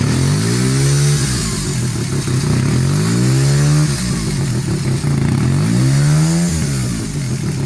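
A 497 cc Suzuki RE5 rotary Wankel motorcycle engine from the mid-1970s revs close by, its smooth buzzing drone rising and falling in three repeated throttle sweeps, loud and steady throughout.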